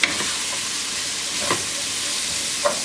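Red onion fries in a pan with a steady loud sizzle, marked by a few soft stirring scrapes, close and without talk.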